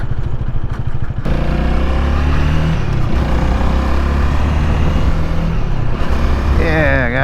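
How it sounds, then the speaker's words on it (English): A Honda Rebel 300 motorcycle engine roars loudly and steadily under hard throttle during a road ride, with wind rush and a short rise in pitch near the end. "ripping on the throttle"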